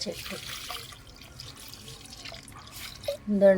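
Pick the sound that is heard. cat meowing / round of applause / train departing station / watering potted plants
watering potted plants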